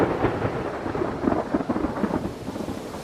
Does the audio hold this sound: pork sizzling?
no